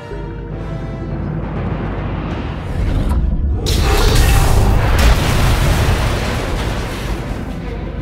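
Artillery bombardment in the video game Star Wars: The Old Republic, a low rumbling roar swelling into loud booming blasts with a rushing whoosh, dense and sustained throughout.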